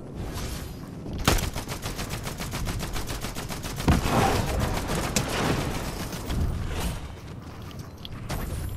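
Rapid bursts of gunfire in the Fortnite video game, shooting at wooden structures, with repeated dense volleys and sharp shots close and loud throughout, no voices heard.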